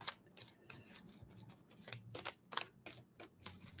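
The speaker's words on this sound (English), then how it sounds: "as I start shuffling" Tarot cards are shuffled close up during an astrology reading, giving a run of quick papery riffles and soft slaps in uneven bursts, fairly quiet and without talk.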